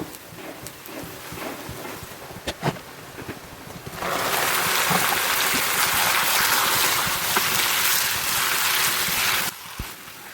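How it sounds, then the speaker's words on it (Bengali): After a few seconds of quieter clatter, a loud, steady sizzle of beef frying in hot oil in a pot starts and continues, then cuts off near the end. "এখন আমি গরুর মাংসটা এর মধ্যে দিয়ে ভালো করে ভেজে নেব"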